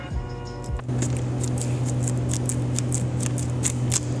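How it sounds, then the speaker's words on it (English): Scissors snip through the tip of a plastic piping bag filled with cannoli cream, giving a rapid series of small crisp cuts over a steady low kitchen hum. "We're gonna cut the tip about 1 inch up the bag."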